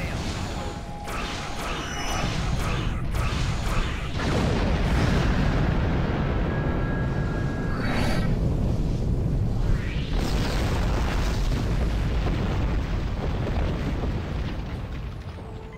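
Starship weapons fire and explosions from a Romulan Republic battle in the Star Trek Online game crackle and boom continuously, with layered blasts and zapping shots over a dense rumbling bed.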